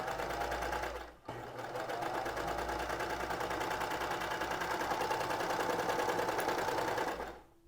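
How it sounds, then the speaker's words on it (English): A serger runs with its knife turned off, stitching two fabric edges together in a fast, steady mechanical whir that stops briefly, restarts and carries on for several seconds before halting. "So knife is turned off and I'm just going to serge these two edges together"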